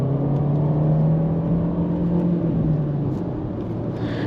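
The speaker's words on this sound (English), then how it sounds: "So you can see there's a turbo boost hit in there." A 2023 VW Jetta Sport with a 1.5-litre turbo engine and manual gearbox accelerates from inside the cabin, its engine drone rising steadily in pitch under a broad whirring road rumble.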